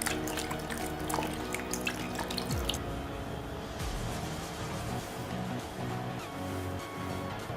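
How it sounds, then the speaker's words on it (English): Water runs and splashes from a tap as a lemon scrub is rinsed off the skin, a steady close trickle with scattered drips and splatters. "After 10 minutes, wash it off with water."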